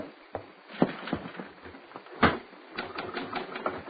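Clacking typewriter keys in an old-time radio drama scene, a run of uneven, close taps with a louder strike or carriage thump midway, played alone without voices.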